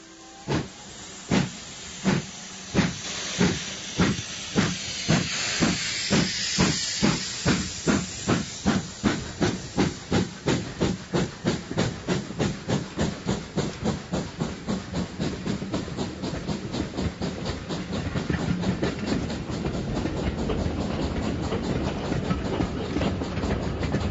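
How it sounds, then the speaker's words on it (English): A steam train heading north toward Scotland chuffs in loud rhythmic bursts that start slow and quicken into a rapid beat, with steady hissing steam throughout and no voices. "Hannay is heading north by train to the wilds of Scotland"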